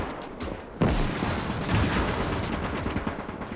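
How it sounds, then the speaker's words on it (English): Battlefield din from the video game Gates of Hell at the Mannerheim Line: a sharp crack opens into dense, overlapping gunfire and rumbling artillery, loud and chaotic, with no voices. "Finnish artillery is active as well further back."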